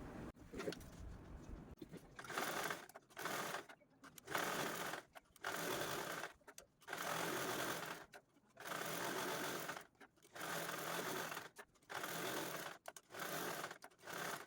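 A sewing machine stitches diagonal quilting lines through cloth for a three-pocket purse, running loud and close in bursts of a second or two separated by brief pauses.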